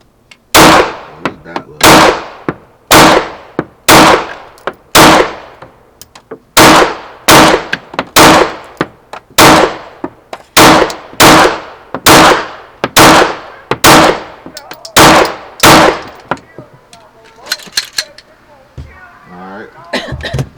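A Glock 45 pistol fitted with a Parker Mountain Machine compensator fires about eighteen loud, sharp shots in a steady, evenly spaced string, each crack close and ringing briefly, with a few faint clicks and rustles at the end.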